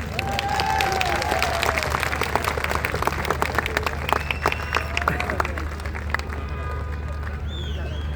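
Audience applause at a motivational seminar in Bhopal, a dense, sustained wash of many hands clapping from a large indoor crowd, continuous and steady, with a voice talking over it near the end.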